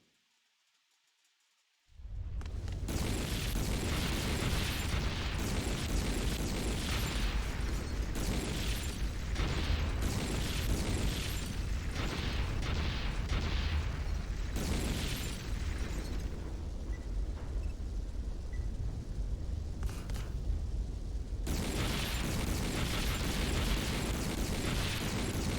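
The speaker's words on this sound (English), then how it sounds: "literally just playing that exact same explosion sound effect over and over and over and over and over again." An explosion sound effect from the video game Metal Gear Acid 2, a loud, continuous roaring blast that keeps repeating without a break for over twenty seconds after a short quiet lead-in.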